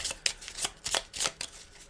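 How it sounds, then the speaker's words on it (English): Board game cards shuffled by hand at close range, a rapid series of crisp riffling bursts with short pauses between them, no talking. "And we're going to shuffle the cards."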